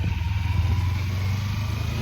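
A motorcycle engine idles close by with a low, pulsing, steady throb that continues for two seconds without a break, with no one speaking.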